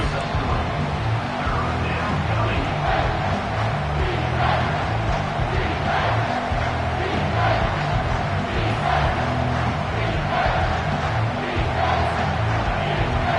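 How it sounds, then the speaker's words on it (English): Loud, steady stadium crowd roar in a college football video game on a third-down defensive stand, a dense wall of noise that holds throughout with a low rumble beneath. "Decibels rising as the crowd gets behind this defense on 3rd down"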